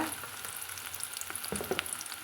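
Chopped garlic and small onions frying in oil for a green gram kuzhambu, a soft continuous sizzle with scattered sharp crackles and pops, close and fairly quiet with no talking.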